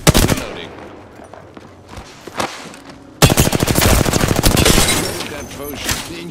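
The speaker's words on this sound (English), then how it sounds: "Enough, I'm getting shot at." Gunfire in Apex Legends: a few scattered shots at first, then a loud, rapid automatic burst of closely spaced rounds that carries on for several seconds, with in-game voices talking in places.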